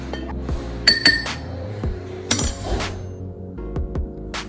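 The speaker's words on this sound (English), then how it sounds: "Obviously, you want to mix all of your dry ingredients together." Spoon stirring dry ingredients for brownie baked oats in a bowl, with bright clinks and taps against the rim in uneven clusters, close and clear with no talking.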